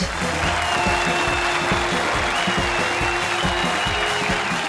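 A studio audience at a comedy show applauds to welcome performers, its dense, continuous clapping running loud and steady under a bed of music with a rhythmic beat.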